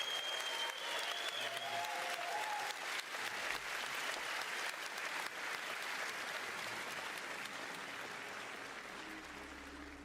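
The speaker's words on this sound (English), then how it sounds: "Round of applause," An audience at an ARPG roundtable at ExileCon claps steadily and loudly, sustained applause that fades slightly toward the end, with a few faint voices mixed in.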